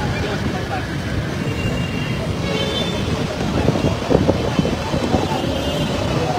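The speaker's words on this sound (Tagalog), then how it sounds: "Hangin." Wind rushes in a steady, loud broadband roar across the microphone outdoors during flooding, with faint traffic and voices mixed underneath.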